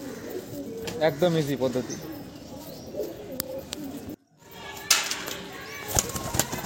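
Roller pigeons coo in soft repeated phrases with brief wing flaps as they are caught with a bat, while someone talks nearby. A short silent gap breaks the sound partway through.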